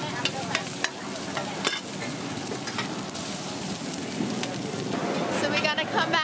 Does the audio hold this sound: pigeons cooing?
no